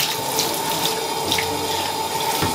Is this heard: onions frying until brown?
no